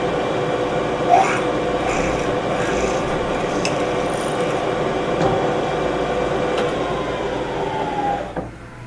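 A steady grinding, rasping hum of a drill press peck drilling a through hole in metal with cutting fluid, continuous and close, with slight shifts in pitch before it winds down near the end.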